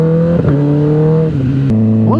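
Loud motorbike exhaust drones steadily during a ride, the engine pitch holding then stepping up and down with throttle changes, close and continuous with no talk.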